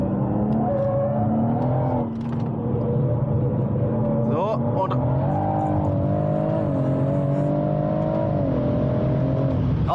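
A BMW M140i with a modified B58 engine accelerates hard, its loud engine note climbing and holding through the run while someone talks over it.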